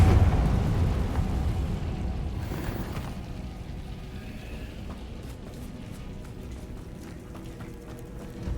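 A Confringo fire spell explodes in the Hogwarts Legacy video game, a heavy low burst at the start that trails into a long rumbling roll and steady crackling debris, with no voices.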